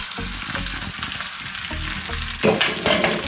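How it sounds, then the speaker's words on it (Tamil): Chicken pieces frying in a pan for Spanish chicken rice, with a steady close sizzle and a few louder crackles and stirring scrapes near the end. "இப்போ இந்த கோழி அவ்வளோவும் இப்போ 2 நிமிஷம் இந்த பக்கம் பொரியட்டும்"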